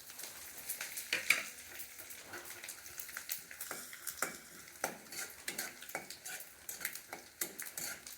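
Torn curry leaves and spices crackle and sizzle in hot oil, with scattered pops and a few utensil clinks over a low, fairly quiet background.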